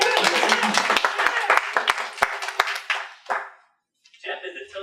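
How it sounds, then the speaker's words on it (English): Guests at a roast honouring a Toastmasters area director clap steadily for about three seconds, a close, lively round of applause that thins out to scattered claps, then breaks off, and a voice speaks afterward. "Clap for Jeff"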